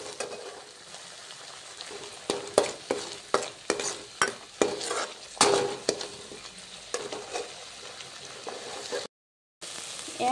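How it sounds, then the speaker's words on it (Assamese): Fish curry spice paste with turmeric and salt fries in a pan for an Assamese-style fish curry. Close, steady sizzling is punctuated by repeated scraping stirs of a utensil, with no voices. "দি পেলাই মই আৰু অলপ সময় এইখিনি ফ্ৰাই কৰি ল'ম।"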